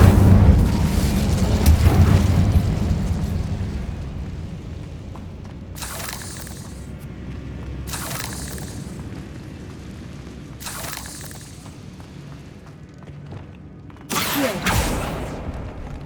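Incendio fire spell cast in the video game Hogwarts Legacy: a heavy, booming rumble of flame that swells and fades, followed by several short, sharp bursts and crackles, with a final louder blast near the end.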